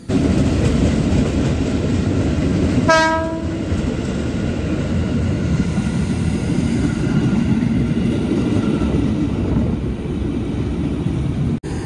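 An Indonesian KRL commuter electric train rolls past loudly and steadily. Its horn gives a short blast near the start, and wheels clatter on the rails throughout.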